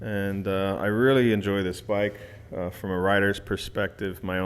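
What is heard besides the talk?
No everyday noises stand out.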